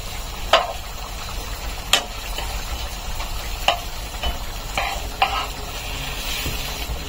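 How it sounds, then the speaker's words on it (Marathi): Mori fish pieces roast in a pan with a continuous low sizzle, broken by several sharp clicks and knocks as the fish is turned over; nearby and moderately loud. "आता आपण तिला दुसऱ्या बाजूने भाजून घेऊया."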